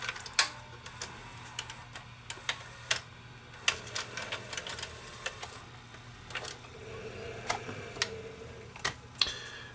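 A Sony SLV701 VCR with a suspected broken belt runs its tape mechanism, giving off irregular mechanical clicks and ticks over a low steady hum, close and fairly quiet.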